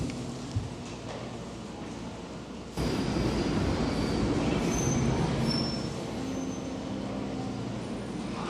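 Train on the London Underground rumbles steadily with rolling wheel and carriage noise, growing louder partway through, with faint high squeals above the roar; no spoken warning is heard.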